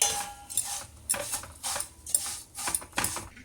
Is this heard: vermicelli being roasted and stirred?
yes